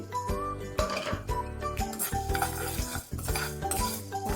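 Coriander seeds and fenugreek dry-roast in a pan over a low flame, with steady metallic scraping and clinking of a spoon against the pan as the seeds are stirred continuously.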